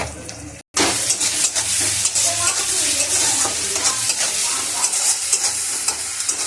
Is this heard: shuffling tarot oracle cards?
no